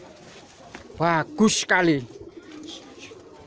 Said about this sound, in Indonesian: Ini merpati saya yang istimewa kawan.